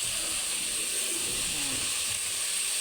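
Sliced vegetables, including eggplant, sizzle in a hot pan for a sautéed mixed-vegetable dish, giving a steady, loud, even hiss throughout with no voices.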